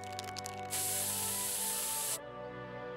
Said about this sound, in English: I will pepper spray you back to the Stone Age